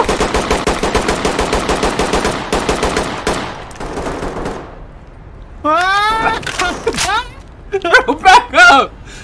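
Fast automatic gunfire in the tactical shooter Ready or Not, a loud, close sustained burst for several seconds that trails off, followed by people shouting and talking.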